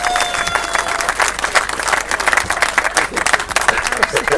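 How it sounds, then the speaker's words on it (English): Loud, sustained crowd applause with scattered cheers from spectators at a 1000cc right-hand sidecar grasstrack championship, steady and dense throughout with no break. "So please, a big round of applause for Rob Bradley and the Pickering Club"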